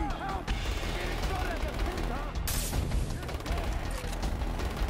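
Gunfire in the video game Far Cry 3, rapid shots and bursts over a dense, continuous game soundscape, fairly loud throughout.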